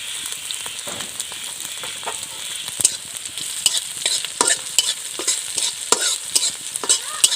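Green chillies being stirred and fried in a pan of hot oil for a singara filling, with a steady bright sizzle and frequent sharp scrapes and clinks of the spoon against the pan, close and busy with no talking.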